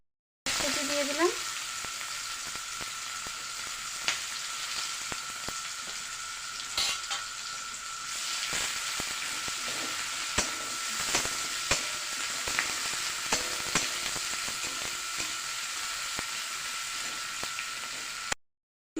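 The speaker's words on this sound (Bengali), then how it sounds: "পেঁয়াজটা আমাদের ভাজা হয়ে গেছে" Onions sizzle in a pan with a continuous crackle, broken by clicks and scraping as they are stirred, close by. The sound runs unbroken until it cuts off near the end, with no voices.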